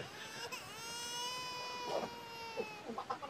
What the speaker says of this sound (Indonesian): Bayi apa ini ya? Nih. Suaranya aneh ini ya?